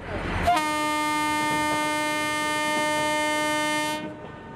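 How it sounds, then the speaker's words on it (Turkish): The Doğu Ekspresi passenger train's loud, sustained horn blares for several seconds over the rumble and clatter of the train departing, then cuts off. "Aldığı yeni yolcularıyla Doğu Ekspresi tekrar yola koyuluyor."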